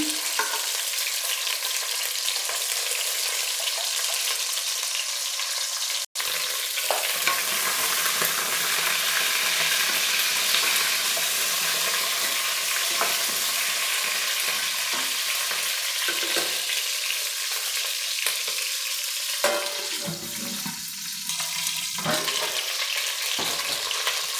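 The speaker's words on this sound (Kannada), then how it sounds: "ಈಗ ಈ ಬದನೆಕಾಯಿ ಎಲ್ಲನೂ ಸಹ ಎಣ್ಣೆಯಲ್ಲಿ ಒಂದು ಐದು ನಿಮಿಷ ಫ್ರೈ ಮಾಡಬೇಕು" Eggplant frying in oil in a pan with masala, a continuous loud sizzle and hiss with occasional scraping stirs, one sharp click early on, no talking throughout.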